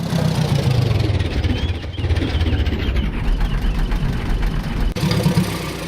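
A vehicle engine idles steadily and loudly in the DayZ video game, a continuous rumbling drone that carries on without pause.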